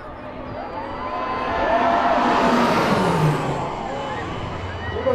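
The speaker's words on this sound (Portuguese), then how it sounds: "Vamos escutar o ronco dos motores A29 Super Tucano da Força Aérea Brasileira." A-29 Super Tucano turboprop aircraft of the Brazilian Air Force's Esquadrilha da Fumaça passing overhead at an air show in Pinhais, a loud, broad engine roar that swells and recedes with a falling pitch, crowd noise and voices beneath it.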